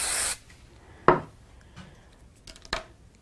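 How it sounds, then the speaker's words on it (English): A short, hissing burst from a spray bottle mists a small card-making piece, followed by a few faint taps and light handling sounds in a quiet room. "Give this a little spray."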